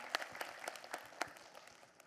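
A small audience at an Islamic religious gathering claps for Habib Muhammad Syahab, a quiet, sparse patter of separate hand claps at an uneven rhythm over a short stretch.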